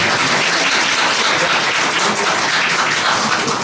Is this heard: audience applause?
yes